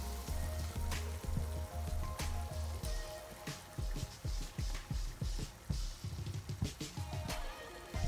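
Eggs with white and black pepper cooking in a simmering egg stew, a steady run of soft bubbling pops and gentle plops, close and quiet, with a low hum underneath.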